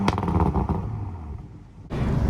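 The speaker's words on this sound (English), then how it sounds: "I'm gonna let you guys see what that straight six sounds like really quick." A 2020 Toyota Supra's straight-six engine and dual exhausts give a loud, close rev with a rising then fading tone, cut off by a brief drop before a renewed surge of engine noise at the end.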